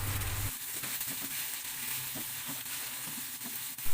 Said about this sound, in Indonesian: Kemudian tumis lagi sampai tomatnya pun layu ya.